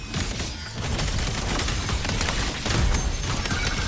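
An automated cannon defense system firing in the Wuthering Waves video game, a dense rapid barrage of booming shots rattling on continuously at moderate loudness.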